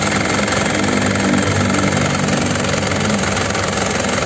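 A 2005 Isuzu Panther Grand Touring diesel engine idles steadily up close, a loud, continuous rough clatter with a low rumble and no breaks.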